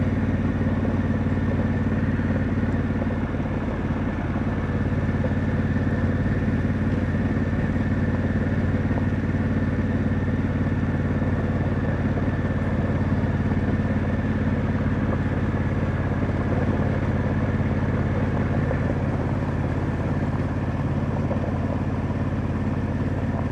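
A Harley-Davidson Pan America motorcycle cruising along a road near Lake of the Ozarks, a steady low engine drone held without pause throughout, with no talking.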